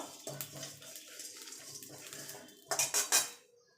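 Dried red chillies, whole cumin, fennel and black peppercorns dry-roasting in a wok: a metal spatula scrapes and clinks against the pan in uneven strokes, ending in a burst of louder rattling clatter.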